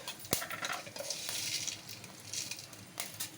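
Dried red chillies and seasoning spices crackle and sizzle in hot oil in a pan, with a sharp pop near the start and soft stirring scrapes, faint and close.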